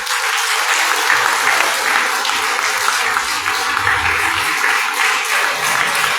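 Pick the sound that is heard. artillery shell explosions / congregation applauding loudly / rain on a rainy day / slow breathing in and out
congregation applauding loudly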